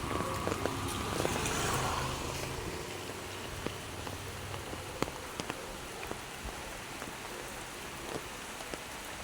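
Heavy rain falls steadily, a dense continuous hiss of drops pattering on surfaces, close and unbroken, with a few sharper drip taps scattered through and no voices.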